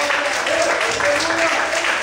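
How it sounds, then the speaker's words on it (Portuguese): A church congregation applauds in praise, a steady, dense wash of many hands clapping at once that holds evenly throughout, with voices rising over it. "Mais aplausos ao Senhor"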